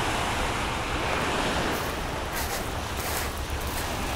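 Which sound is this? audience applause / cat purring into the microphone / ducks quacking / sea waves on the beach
sea waves on the beach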